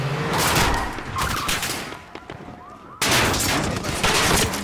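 Gunfire in Call of Duty Modern Warfare sounds loud and close in dense, rapid bursts that briefly ease off before resuming just as heavily.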